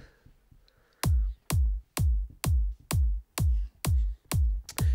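Layered kick drums in an electronic track hit in a steady four-on-the-floor pulse, about two per second, each a punchy thump with a quick decaying tail, alone with no other parts.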